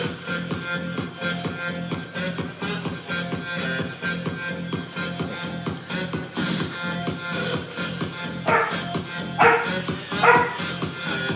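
A black and white Pomeranian puppy gives rapid, repeated high yips and small barks close by in an indoor space, with a few louder, sharper yelps near the end.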